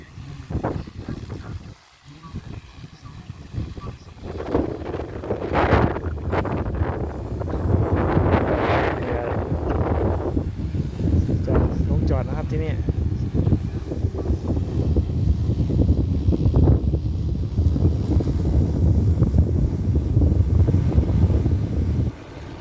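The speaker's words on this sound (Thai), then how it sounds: "แรงนะครับถือว่าลมแรงมากเลย" Strong wind gusting across open sugarcane fields during a growers' field day, roaring and buffeting the microphone in a continuous heavy rumble with shifting surges, loud and close throughout.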